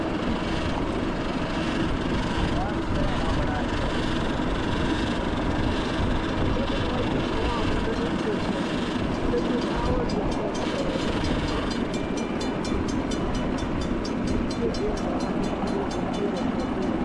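A model engineering club's small locomotive runs steadily along its track at a fall meet, giving a continuous loud rumble with rhythmic clicking toward the end.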